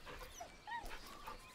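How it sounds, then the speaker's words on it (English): A dog whimpers nervously in the video game Baldur's Gate 3, giving a few soft, high, quavering whines that are faint and close. "The dog whimpers nervously, as if to urge you on."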